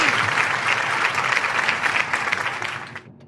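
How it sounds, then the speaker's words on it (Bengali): Steady, dense applause from a class of students during a quiz, loud and close, then tapering off at the end. "যারা সঠিক উত্তর দিয়েছে তাদের জন্য একটা জোড়া হাততালি"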